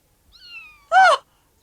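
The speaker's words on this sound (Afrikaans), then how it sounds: "Dis 'n kat!" Cat giving a single short, loud meow after a faint high whine, then quiet.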